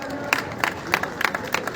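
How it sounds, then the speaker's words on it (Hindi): A crowd claps for NCC girl cadets of the senior division army wing at a Republic Day parade ceremony, rhythmic rounds of applause rising in quick bursts with a few cheers mixed in. "एक बार जोरदार तालियां"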